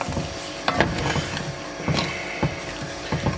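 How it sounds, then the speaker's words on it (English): A hot pan being deglazed while cooking hunters stew, giving a steady close sizzle broken by repeated scraping and knocking strokes from a utensil at uneven intervals, with no talk. "We want to deglaze the pan first."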